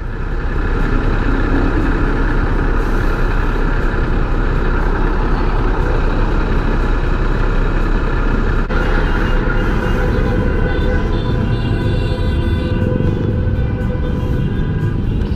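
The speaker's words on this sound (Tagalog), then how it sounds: "Grabe traffic, oh." Heavy road traffic near SM City Santo Tomas, a thick constant rumble of trucks, buses and cars close by, with a voice talking over the noise.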